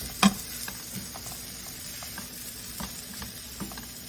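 Vegetables in a quick veggie stir fry are tossed around a hot pan, giving soft scraping stirs and a faint, steady sizzle with one sharper clink near the start.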